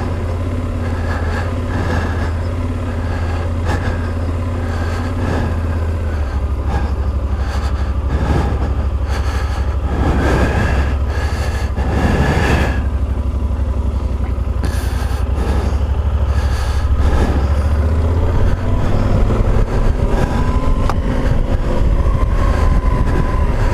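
A motorcycle rides a slow loop around a campsite near a dam in Nebraska in March, its engine a steady, loud low rumble throughout with wind buffeting and a brief shift in pitch partway.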